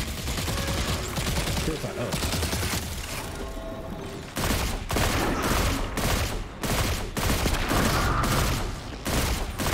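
Rapid automatic gunfire in Destiny 2's Lightfall campaign, with sustained loud bursts, a brief lull, then repeated sharp volleys and impacts close up.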